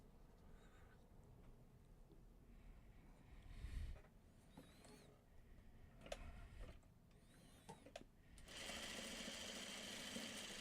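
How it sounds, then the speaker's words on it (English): Sewing machine stitching together a column of a Farmer's Wife quilt block, Birds in the Air, in short bursts of whirring with pauses, then a steadier run toward the end; close but fairly quiet. "I'm gonna sew this column together first."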